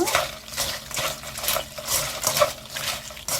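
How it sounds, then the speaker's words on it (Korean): Fried pepper chips seasoned with salt and sugar are stirred in a pan, giving light, crisp scraping and rustling strokes in an uneven rhythm, close and fairly quiet, with no talking. "이렇게 또 저어주세요."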